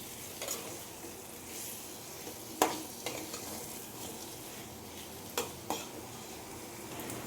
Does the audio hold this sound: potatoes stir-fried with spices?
yes